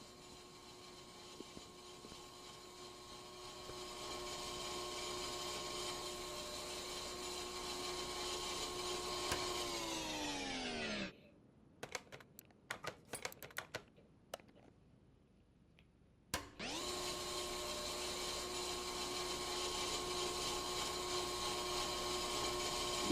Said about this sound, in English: scraping all that rust off